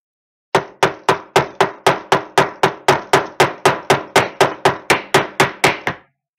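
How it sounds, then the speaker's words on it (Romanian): About twenty evenly spaced hammer blows, sharp and loud, struck in a brisk steady rhythm with nothing else heard. "eu bat ciocan"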